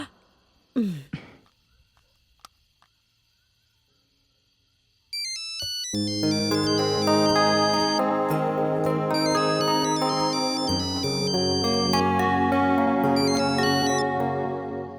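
A phone ringtone plays as a call is placed in a Bhojpuri family drama, a steady melodic loop running loud and alone for about ten seconds after a brief stretch of near silence.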